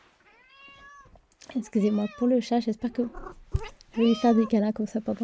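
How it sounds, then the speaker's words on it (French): A house cat meows repeatedly, with a loud, close string of drawn-out and short cries, while someone talks in French between and over them. "Je suis désolée pour le chat qui va miauler sans doute."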